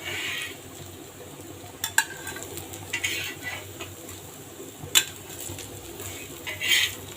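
Fried raw banana pieces being lifted from a pan onto a plate, with a steady soft sizzle underneath and a few sharp clinks of a utensil against metal and plate, close and moderately loud.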